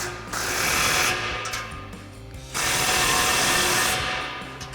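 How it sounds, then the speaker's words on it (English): Power tool driving a 15mm socket to tighten an exhaust pipe clamp on a Ford F-150 with a Flowmaster American Thunder dual exhaust, two sustained buzzing, whirring runs separated by a brief dip, loud and close. "take a 15mm socket to tighten it down"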